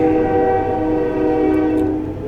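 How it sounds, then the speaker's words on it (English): A train rumbles past near a house, a steady loud low roar with sustained horn-like tones throughout, fading slightly at the end, with no talk. "I live by a train and it just decided to go"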